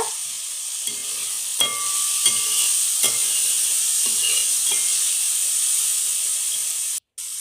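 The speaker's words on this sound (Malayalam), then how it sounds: "ചതച്ച് വെച്ചിട്ടുള്ള ഇഞ്ചി വെളുത്തുള്ളി നമുക്ക് ഇതിലേക്ക് ചേർത്ത് കൊടുത്ത് അതിനെ യോജിപ്പിച്ചെടുക്കുക" Crushed ginger and garlic frying with beef in a pan, a steady hiss of oil punctuated by several soft, spaced stirring knocks, with a brief dropout near the end.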